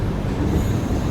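The new Humsafar weekly express, running from Srikakulam Road to Tirupati, makes a loud, steady rumble at Gudur junction, a close continuous roar of rolling wagons with no voices.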